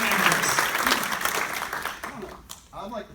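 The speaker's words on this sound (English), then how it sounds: "please just give our hosts here at the Collider a big round of applause" Indoor audience applause for the hosts at a talk in Asheville, a broad dense wash of clapping that fades out after about two seconds, with a voice and room noise continuing beneath.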